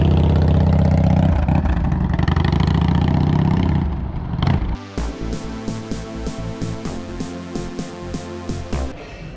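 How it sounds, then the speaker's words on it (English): Harley-Davidson Super Glide motorcycle riding up Chapman's Peak, its engine rumbling steadily under heavy wind buffeting, then shifting to a choppier, pulsing idle-like beat with repeated sharp clicks. "It's one of these awesome super glide Harleys, and we've taken a ride along Chapman's Peak"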